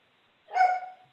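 A puppy lets out a single short bark, close and fairly loud, standing alone in an otherwise quiet moment.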